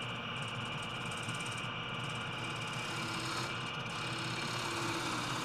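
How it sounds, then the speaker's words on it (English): Small spindle gouge hollowing the bottom of a mesquite bowl spinning on a wood lathe, a steady dense rushing scrape with a constant motor hum, loud and continuous throughout with no voices. "I'll use a small spindle gouge to hollow out the bottom."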